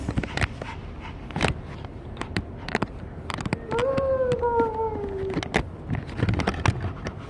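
A lost dog whimpering at a doorway, one drawn-out whine in the middle of the clip, heard close among scattered footsteps and clicking sounds.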